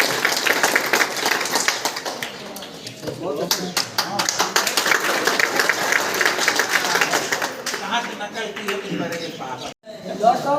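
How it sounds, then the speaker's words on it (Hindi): Parents at a school meeting break into lively applause, a crisp, dense clatter of hands that swells and fades, with a voice speaking briefly over it near the end. "उनके लिए भी जोरदार तालियां।"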